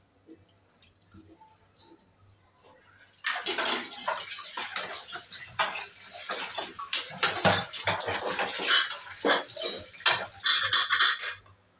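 Hot water poured into a cooking pot of chicken curry, a loud, sustained splashing pour with metallic clinks from the pot, starting after a few quiet seconds and continuing to the end.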